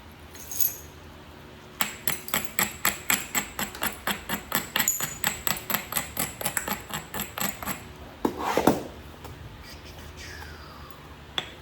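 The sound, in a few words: knapping gold jasper into an arrowhead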